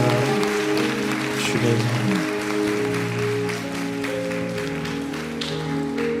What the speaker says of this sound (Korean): 우리 주님 앞에 영광의 박수 올려드립니다.